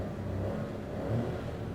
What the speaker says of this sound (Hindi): जब मैं इसके एक्सीलेटर को दबाया तो इसका जो इंजन का साउंड है